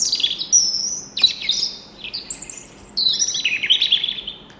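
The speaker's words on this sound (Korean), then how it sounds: "이게 미국에 있는 로빈." An American robin sings a close, clear run of bright whistled phrases with short pauses between them, with no other sounds or voices.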